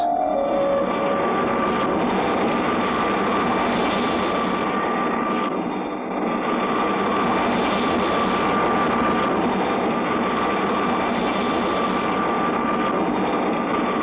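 A cartoon spaceship flies over Mars with a continuous roaring, whining engine drone, loud and steady, swelling slightly as it passes.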